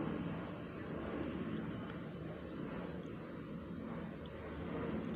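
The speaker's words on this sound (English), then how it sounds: "there's planes going out there patrolling" Patrol airplanes drone overhead as a steady, broad engine rumble that stays even throughout, distant and unbroken, with no talk.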